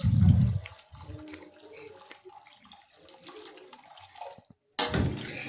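Hot water goes into a small-fish curry of cooked spice masala, with a loud splash and pour at the start, then quieter bubbling and clatter, and another surge of pouring after a short silence.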